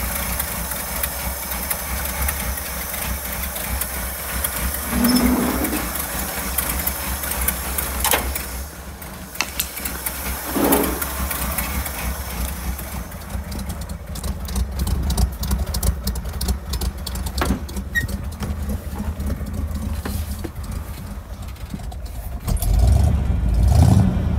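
A 1981 Ford step side pickup engine idles roughly on its own after sitting, a steady uneven drone with occasional rev swells and a louder surge at the end.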